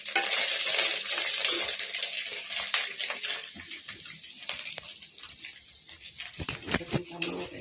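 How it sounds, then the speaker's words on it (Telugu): Egg fried rice cooks in a pan with a soft sizzle, while a spatula scrapes and clatters against the metal in irregular bursts, fairly quiet and close. "రైస్ పెట్టేసిన ఎగ్ ఫ్రైడ్ రైస్ చేస్తున్నాను"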